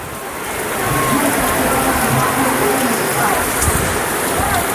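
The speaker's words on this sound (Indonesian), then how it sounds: "Hujan rintik-rintik, bukan cuma rintik-rintik kalau wilayah sini" Heavy rain pours during a local football match, a dense, steady hiss that swells in the first second and then stays constant, with faint voices beneath it.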